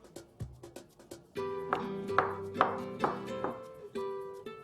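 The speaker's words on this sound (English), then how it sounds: "I'd initially cut them into wedges, but for this recipe specifically, I need them diced in small bits" A knife dices fresh melon into small bits on a cutting board, producing a quick run of crisp chops followed by steady repeated taps with ringing resonance, close and clear with no talking.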